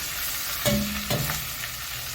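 Spices and chicken pieces fry in ghee in a single pot for an Egyptian-style chicken kabsa, giving a steady close sizzle with two brief clinks of a utensil against the pan.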